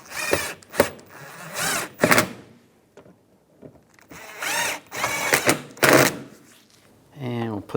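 Power drill buzzes in several short bursts, driving screws into the front inner fender liner of a Cadillac SRX, with someone talking between and over the runs.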